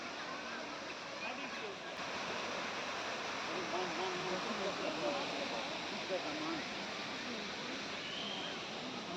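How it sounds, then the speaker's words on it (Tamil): An artificial waterfall in a large Chennai city park, Kalaignar Centenary Park, gives a steady, even rush of falling water that fills the whole stretch, with faint voices in the background. "பக்கத்துலேயே பார்த்தீங்கன்னா செயற்கை அருவி வந்து செட் பண்ணி வச்சுருந்தாங்க"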